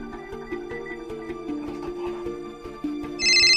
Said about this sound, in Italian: Squilla, ma non risponde, non capisco.